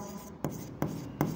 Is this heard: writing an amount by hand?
yes